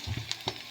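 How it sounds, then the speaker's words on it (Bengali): Chopped onions fry in a kadai wok, giving a short, close, crackling sizzle with a few sharp pops and stirring scrapes. "তো প্রথমেই আমি পেঁয়াজ কুচি দিয়ে দিয়েছি কড়াইয়ে"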